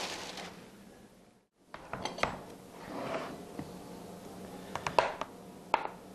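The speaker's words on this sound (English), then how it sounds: "we're just going to cut it into thin slices and layer the butter" A knife slicing frozen butter into thin slices on a board, making faint, scattered taps and light scraping clicks with quiet gaps between cuts.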